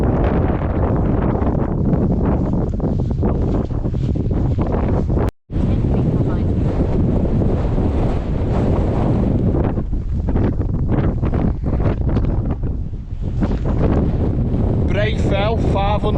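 Strong wind roars and buffets the microphone almost without pause on an open fell summit in the Lake District, with a brief cutout and voices faintly buried underneath.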